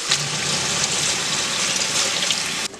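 Water pours steadily into a cooking pot that already holds dried lime and a cinnamon stick, giving a continuous splashing gush that stops abruptly near the end.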